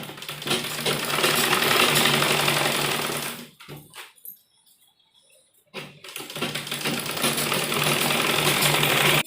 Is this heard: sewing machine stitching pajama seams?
yes